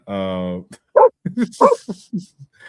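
A dog lets out a long, drawn-out bark or howl followed by a string of short yips and vocal bursts, close and loud, with little else around it.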